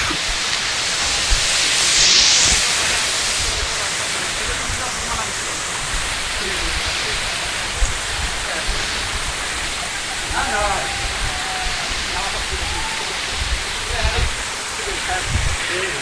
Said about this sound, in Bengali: দেখুন সামনেই ঝিরি ঝর্ণা